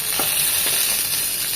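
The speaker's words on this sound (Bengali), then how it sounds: "4 থেকে 5 মিনিট এক পাশটা ভেজে নেব, সাথে সাথে উল্টাবো না" Chicken keema seekh kebabs fry in a pan over medium-low heat, giving a steady close sizzle with faint crackles throughout.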